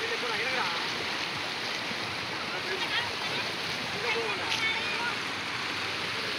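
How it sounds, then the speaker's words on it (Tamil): River water rushing steadily at full flow after a heavy overnight rain, a dense, continuous broadband roar of moving water close by that stays even throughout. "தண்ணி போய்கிட்டு இருக்கு."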